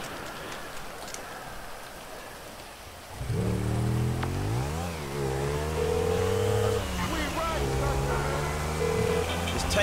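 A motorcycle engine revs in Grand Theft Auto V, starting after a few seconds of hissy, rain-like ambience, then rising and falling in loud, close throttle sweeps with a voice talking over it.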